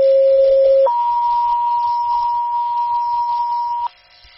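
Two-tone dispatch paging for a county ambulance on fire radio: a short lower steady tone followed by a long higher steady tone, loud and clean, then cutting off.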